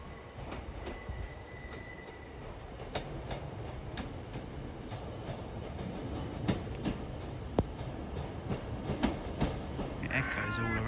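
A passenger train arrives at Coombe Junction Halt station, a steady rumbling approach with clanks and wheel noise building gradually toward the end, no talk over it.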